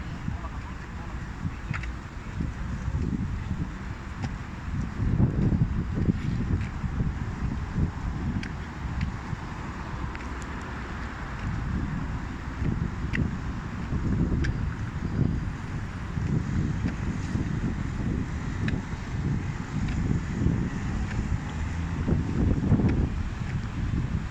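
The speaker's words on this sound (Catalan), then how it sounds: "Quin vent" Strong wind gusts buffet the microphone outdoors at a municipal sports park, a steady low rumbling roar that swells and eases over the whole stretch.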